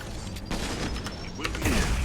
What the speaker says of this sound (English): Nice heat-seeking missile.